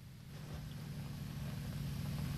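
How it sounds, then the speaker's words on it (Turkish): A car engine sputters in the PUBG battle royale game, a quiet, steady low rumble with a rough, pulsing texture that holds alone without voices. "Benim araba osuruyor."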